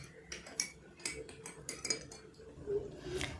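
A spoon stirs kewra water and rose water into milk in a metal vessel, giving light, irregular clinks and taps, quiet and close, with no talk.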